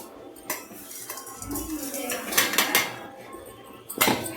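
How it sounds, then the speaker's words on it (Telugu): A spoon scrapes and clinks against a steel mixer jar as dry-roasted spices are tipped in, a run of short metallic taps and scrapes close by with a louder knock near the end, no voice over it. "వీటిని మిక్సీ గిన్నెలోకి తీసేసుకుందామండి"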